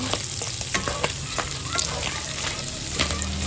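Ingredients for spaghetti sauce are sautéed in a pan, with a constant loud frying sizzle and intermittent clinks and scrapes of stirring, close by.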